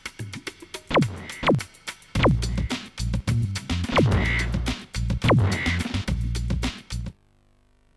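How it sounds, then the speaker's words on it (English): Birds quacking and squawking in a machine room in the Spyro 3: Year of the Dragon video game, a string of sharp cartoonish calls repeating over a steady mechanical hum, ending abruptly in near silence. "Just as I thought, the machine room is overrun with birds."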